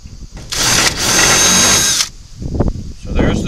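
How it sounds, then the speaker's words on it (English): A loud power drill whines steadily for about a second and a half through metal at pre-drilled holes for pop rivets, briefly pauses, then grinds on again before cutting off, followed by softer clattering. "All I have to do is drill through those pre-drilled holes"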